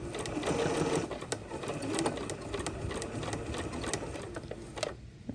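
A sewing machine runs a straight stitch on fabric, its needle chattering in a fast, even rhythm with brief slowdowns and pauses. It is close and moderately quiet, with no talking.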